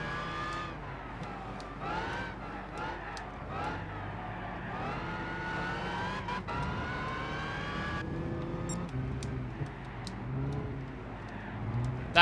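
A Ford Mustang GT350 race car engine in Gran Turismo 6 revs and whines through repeated gear shifts, pitch climbing and dropping in quick sweeps, with a brief skid.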